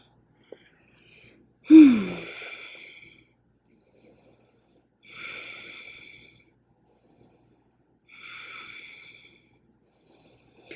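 Three breath sounds during a yoga flow, spaced a few seconds apart in a quiet room; the first is strongest, with a brief voiced sigh at its start, and the later two are softer, airy exhalations.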